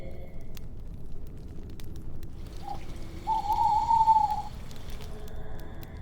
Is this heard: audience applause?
no